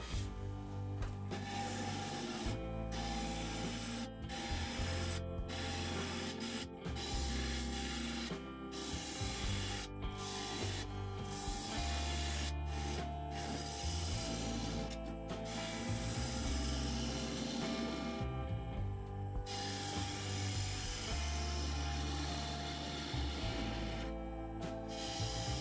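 A maple vessel being hollowed out on a wood lathe: a continuous loud hum of the spinning lathe with rough scraping and rasping of the cutting tool, broken by frequent short pauses and restarts.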